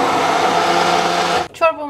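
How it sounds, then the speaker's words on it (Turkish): A blender purees broccoli soup, whirring steadily and loudly, then cuts off abruptly near the end, followed by a brief clatter. "Çorbamızı blenderdan geçiriyoruz."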